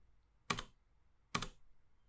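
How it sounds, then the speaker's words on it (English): Two crisp, close keypresses of the Enter key on a computer keyboard, evenly spaced under a second apart in a quiet room. "the shortcut is pressing Enter on your keyboard"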